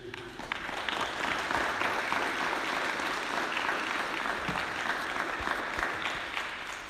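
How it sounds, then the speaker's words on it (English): Graduation crowd at Primero High School applauds its graduates, a broad, even roar of clapping that swells after the first half second and holds steady for several seconds before easing slightly. "Now we all join me in with a round of applause for our graduates, please."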